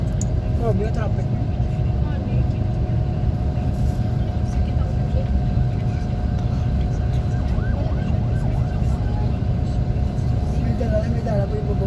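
Road traffic rumbles steadily around a moving vehicle on a trip near San Juanico, with passing engines and faint tonal whines mixed in, while voices chatter over the drone.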